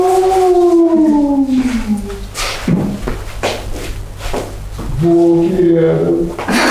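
Several people in an acting class imitate wolves howling with long, sliding voiced howls at the start and again near the end. Breathy sounds, shuffling and a few thumps fill the gap between them.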